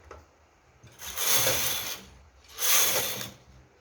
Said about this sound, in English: I'm going to push the empty needle to working position and knit 2 rows.